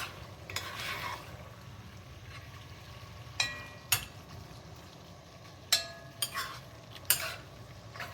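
Teriyaki sauce for a sesame shrimp stir fry simmers in a pan with a low, steady bubbling hiss, punctuated by several sharp clinks of a utensil against the pan.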